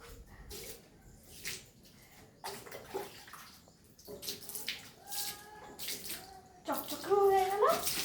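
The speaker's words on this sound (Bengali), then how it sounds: "দাঁড়া, ভালো করে ধুয়ে নিচ্ছি" A gas cylinder is washed with splashing, pouring water in uneven bursts, with voices talking over the washing and a sharper squeaky scraping near the end.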